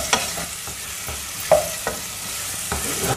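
Tomatoes sautéing in a pan for tawa rice, a steady close sizzle broken by several sharp spatula scrapes and taps as the pieces are stirred, with no voices.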